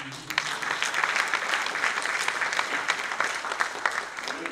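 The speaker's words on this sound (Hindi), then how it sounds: "अरे यार इसके नाम की ताली तो बजा दो." Dense applause from a lecture hall audience at a university talk, steady and fairly close, filling the whole stretch with crisp overlapping claps and no voices.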